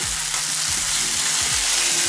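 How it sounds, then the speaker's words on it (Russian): Fried potatoes with onion sizzle loudly in a pan, a constant crackling hiss with occasional stirring scrapes and bursts, close up, with no talk. "такая жареная картошечка с лучком"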